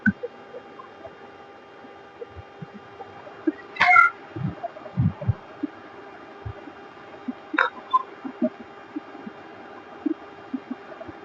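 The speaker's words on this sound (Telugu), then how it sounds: "ఈమె మా పిల్లి" A cat gives two short meows several seconds apart over a quiet room, with soft scattered thumps and clicks nearby.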